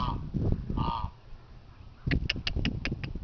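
A couple of honks from geese close by, then a rapid string of short, sharp honking calls.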